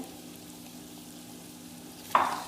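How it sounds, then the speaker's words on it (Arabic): Tomatoes are dropped into a hot pan for an Iraqi mekhlama, bursting into a sudden loud sizzle near the end after a low, quiet simmer, close up with no talk. "هسه اجى وقت الطماطم، راح اضيفها"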